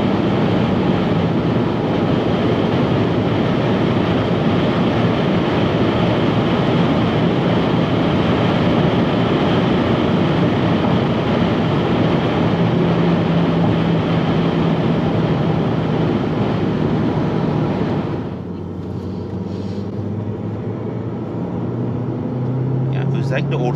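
Opel Insignia 1.6 Turbo 180 HP Cosmo with Flexride chassis cruising fast on a highway, a steady loud drone of engine, tyre and wind noise that drops slightly near the end, with someone talking over it.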